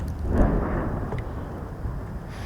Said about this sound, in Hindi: हैवी फायर हो रहा है भारत की तरफ से।